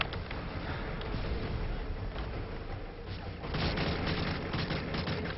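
Enemy gunfire in the video game Modern Warfare 3, a dense, steady stream of shots and blasts filling the whole stretch, growing louder and busier partway through, with no talk.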